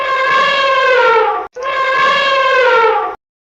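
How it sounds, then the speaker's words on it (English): An elephant trumpets in two long, bright, brassy blasts with a brief break between them, loud and close, with no other sounds present. "Elephant."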